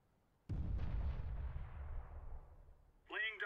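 A grenade goes off in CS:GO with one sudden heavy boom that rolls out into a long fading rumble, followed by a short burst of a voice.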